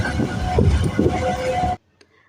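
Train rolling along rails on a Karachi to Lahore journey, a loud steady rumble with rattling for nearly two seconds before cutting off abruptly into near silence.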